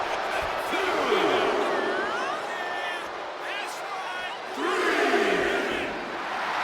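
Wrestling arena crowd in the WWE 2K25 video game cheering and roaring in two swelling waves, a steady dense wash of many voices with occasional shouts.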